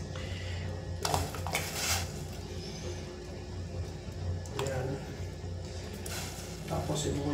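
Chopped tomatoes hit a hot cooking pan with clattering, scraping strikes and a steady sizzle underneath, close and fairly quiet, with a few sharper knocks of utensil against metal.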